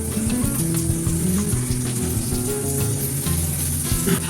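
Mustard, poppy seed and green chili paste sizzles in a hot pan as yogurt is stirred in, a close, steady frying crackle with light stirring sounds and a faint tonal hum beneath.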